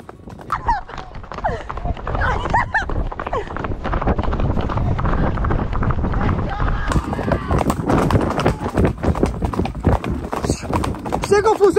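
Horse hooves clip-clop steadily through a group trail ride, with riders talking and shouting over them and wind buffeting the microphone throughout.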